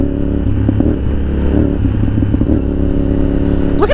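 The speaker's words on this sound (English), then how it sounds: "Carbureted bike and that throttle response is pretty fucking good, dude." A carbureted motorcycle engine idles loud and close, with quick throttle blips rising and falling in pitch, plus some clatter from the road ride.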